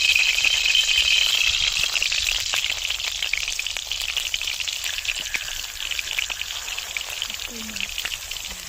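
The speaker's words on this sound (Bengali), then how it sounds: "মাছগুলো রাখো এটা ভেজে নিই" Fish frying in hot white oil in a wok sizzles loudly and close, a constant crackling hiss that eases slightly toward the end.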